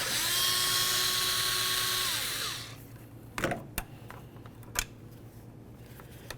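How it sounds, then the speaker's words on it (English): A high-pitched power tool spins out an 8mm headed bolt near the power steering reservoir of a 2006-10 Ford Explorer, whining steadily for over two seconds before winding down, followed by a few light clicks and clunks. "Remove this 8mm headed bolt."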